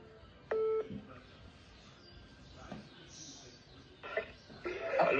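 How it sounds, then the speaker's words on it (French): A phone call being placed: a short burst of touch-tone dialing beeps near the start, then quieter line and handling noises with faint background voices. "Cédric, je vais lancer l'appel là."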